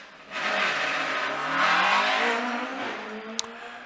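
A hill climb race car at Shelsley Walsh accelerates smoothly over the finish line, its engine note rising and holding loud and close for a few seconds before fading, with a short sharp click near the end.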